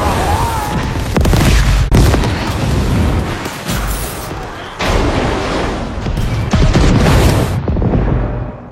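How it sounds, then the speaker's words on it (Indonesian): Loud, dense blasts and roaring rumble fill the scene in the Halo series, with repeated heavy bursts and crashes like an explosion after a main pipe is shot, briefly dipping before surging again. "selamat dari insiden ledakan barusan"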